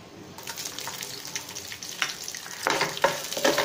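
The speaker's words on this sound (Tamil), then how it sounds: "வெங்காயத்தை நல்லா வதக்கணும்" Small onions sauté and crackle in hot coconut oil with cloves, cardamom and cinnamon, a steady sizzle broken by louder bursts of spoon scraping against the pan, no talking.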